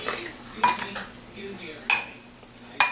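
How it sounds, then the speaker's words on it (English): A thyme container's lid drops in among kitchen dishes, giving a sharp metallic clink. Three distinct bright clinks ring out close by against a quiet kitchen background. "the lid fell right in"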